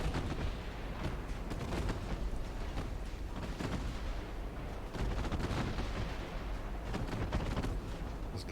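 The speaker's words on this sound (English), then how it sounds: "They're only 5-inch guns, but when you're scoring this many hits, does it matter?" Five-inch naval guns firing at a high rate in the warship game Ultimate Admiral Dreadnoughts, a faint, steady stream of overlapping booms and cracks with occasional sharper reports, no voices.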